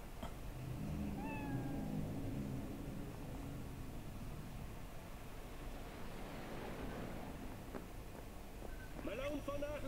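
Cat meowing while being petted in the video game Cyberpunk 2077, a couple of short, clear meows near the start over game ambience and talk, with another faint cat sound near the end.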